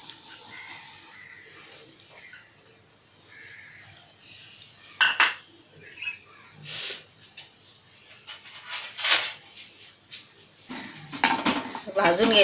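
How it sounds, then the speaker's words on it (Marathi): Niger seeds (karale) dry-roasting in a hot kadhai crackle with scattered sharp pops and light metallic clinks, close and moderately loud, with bursts clustering toward the end. "भाजताना त्याचा असा तडतड आवाज आला ना की उतरायचेत, मग भाजले समजून जायचं ते."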